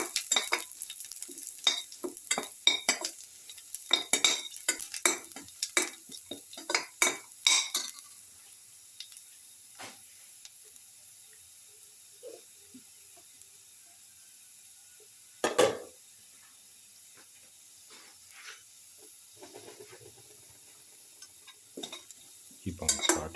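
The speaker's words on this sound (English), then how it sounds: "Put in the garlic, saute" Garlic sautés in a pan as a utensil stirs it, with a quick series of scraping strokes at first and then sparse, quieter scrapes over a faint sizzle.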